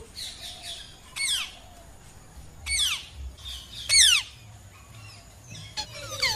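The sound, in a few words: parrot call imitation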